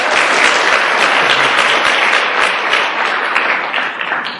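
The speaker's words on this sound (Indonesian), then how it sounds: "Aplaus buat Anda semuanya." Sustained applause from a seminar audience at a Tiens Indonesia networking event, a dense, steady wash of many hands clapping that stays loud and even for several seconds with no voices over it.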